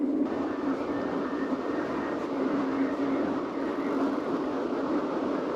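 Train running on a steam railway line, a steady, loud rumble that fills the whole stretch without any break, with no talk.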